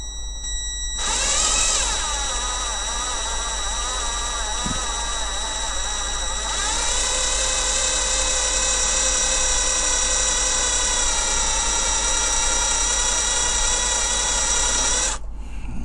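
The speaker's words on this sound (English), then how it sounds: "There's some lovely bit of torque control on this drill." A power drill whirs steadily at low speed for over ten seconds on a Corgi 506 Hillman Imp Police Car model, a sustained mechanical whine with a brief pause near the start, close and loud.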